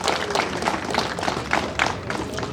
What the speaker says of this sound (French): je vous demande d'applaudir pour ces braves dames qui sont avec nous ici